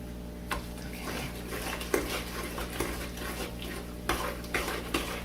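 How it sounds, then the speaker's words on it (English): Strawberries and sugar stirred in a bowl for freezer jam, soft wet squelching with irregular utensil clinks against the side, close and steady over a low hum. "So we'll kind of stir it for about a minute."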